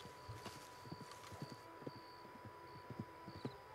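Horse hooves clip-clop in the video game Red Dead Redemption 2, faint and irregular over a quiet background hum, with no speech.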